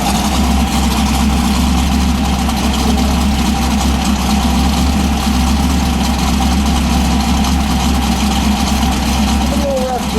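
A 1967 Chevrolet Camaro Z28 engine idling, a loud, close, steady low rumble with a slightly uneven lope and no revving.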